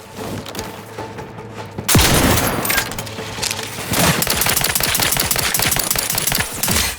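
Shotgun blasts in The Outer Worlds 2 during a fight with crabbles, a sudden loud burst followed by a dense, rapid string of gunfire crackling close up with no talk.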